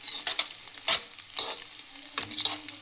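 Six eggs frying with a little salt in a pan, with close scraping and stirring strokes over a soft sizzle in an uneven rhythm.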